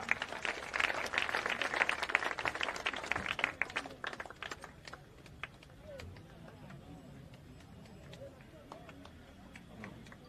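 An audience claps at a Jan Suraaj samwad event honouring Prashant Kishor, with dense, lively applause for the first few seconds that then thins into scattered claps and fades under crowd murmur.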